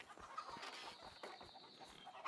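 Chickens on a farm in the video game A Way Out cluck in short, faint bursts, a few soft pecking clucks scattered over a quiet background hum.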